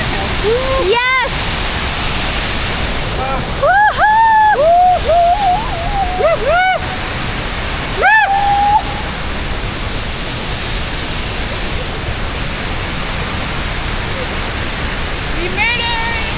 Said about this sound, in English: This is the Tigre Waterfall.